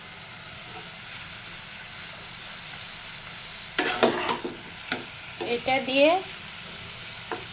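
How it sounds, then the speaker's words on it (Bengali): Boiled bottle gourd cooks in a pan with ginger and cumin paste, giving a soft, steady sizzle. Partway through, a brief spoken phrase is followed by a series of louder stirring scrapes and clatter. "এবার আমি এর ভিতরে দিয়ে দিব আদা আর জিরে বাটা।"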